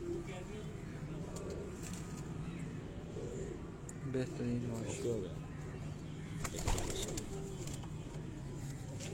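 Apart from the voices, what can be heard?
pigeons cooing on a rooftop loft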